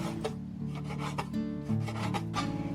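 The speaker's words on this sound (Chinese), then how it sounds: "我们直接切薄片" Knife slicing pork neck into thin slices on a cutting board, giving a close, steady run of scraping, rasping cuts.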